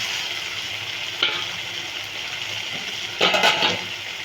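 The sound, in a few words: onion, masala and chopped tomato frying in a pan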